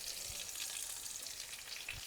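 Dried red chillies frying in hot oil for a traditional Kerala-style village curry tempering, giving a steady close crackling sizzle with a couple of soft thumps, no voices.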